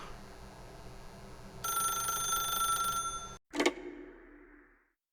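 A telephone rings in the video game The Stanley Parable, a bright electronic ring over low ambient hum, followed by a sharp click as it stops and fades out.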